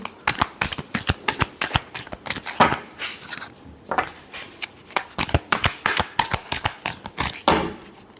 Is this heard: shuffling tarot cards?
yes